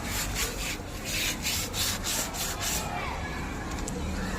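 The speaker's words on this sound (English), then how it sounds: "First we are doing the sanding." Sanding a 4-foot statue during restoration, a close, continuous scratchy rubbing with rhythmic back-and-forth strokes, fairly loud throughout.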